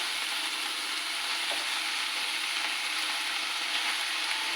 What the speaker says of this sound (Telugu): కొత్తిమీర, పుదీనా కలిపి వేయించేసుకోవచ్చు